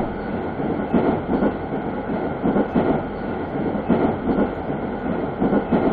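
A Seoul Subway Line 7 train bound for Jangam rumbles along from inside the car, with a steady loud drone and rhythmic clickety-clack of wheels passing over rail joints.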